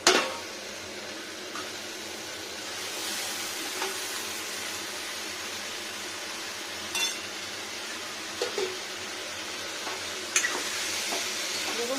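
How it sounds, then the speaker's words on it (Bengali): Rice frying and being stirred in oil for a simple vegetarian lunch dish, giving a steady soft sizzle with a few scraping clinks from the spoon against the pan, no talking. "দেখুন তেলটা কি সুন্দর ভাজা ভাজা গেল"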